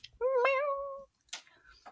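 A cat gives one long, clear meow up close, followed by a shorter, softer meow a moment later.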